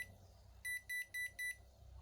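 A Toshiba rice cooker, converted to a 220V supply and faulty, gives four short, evenly spaced high error beeps at moderate level over a low background hum.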